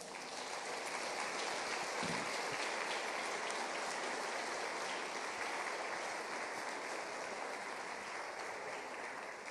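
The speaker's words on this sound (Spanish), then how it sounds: "Denle un aplauso al Señor." A church congregation applauding the Lord after a sermon, a dense, steady wash of clapping heard at moderate distance for the whole stretch.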